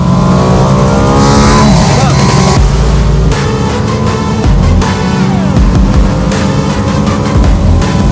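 A Mercedes-AMG car drives fast around the Jarama race track, its engine roaring loudly and continuously with shifting pitch, mixed with other sound and a voice.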